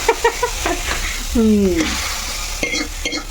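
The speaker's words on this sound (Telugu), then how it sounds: "ఓన్లీ ఇంగువ వేసుకుని తాలింపులు వేసుకుని తాలింపు పెట్టుకుంటాం" Asafoetida tempering sizzles in hot oil in a pan, stirred while cooking moong dal with tomato. A short, close frying hiss with scraping stir sounds and a brief squeak partway through.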